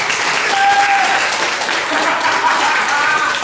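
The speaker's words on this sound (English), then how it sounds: "Who thinks I'm feet pics? Round of applause." An audience at a live comedy-style show bursts into a short, full round of applause and cheering, dense and close, with a voice faintly calling out over the clapping.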